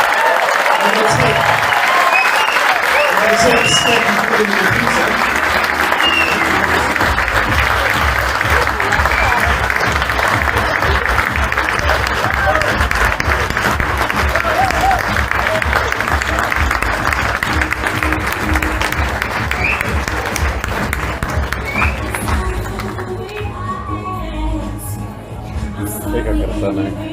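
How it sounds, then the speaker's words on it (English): Loud, sustained audience applause fills a speech event hall, a dense wash of clapping that runs for most of the stretch, with someone speaking briefly over it and the applause thinning toward the end. "Round of applause and come on the stage."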